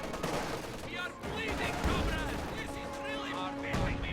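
Strategy video game battle with a dense mix of rapid gunfire, machine-gun bursts and heavy artillery blasts, loud and continuous throughout.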